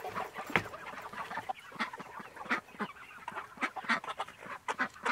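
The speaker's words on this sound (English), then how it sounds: "The meat birds are doing awesome." A flock of meat chickens clucks and squawks in quick, overlapping bursts, busy and close, with no speech.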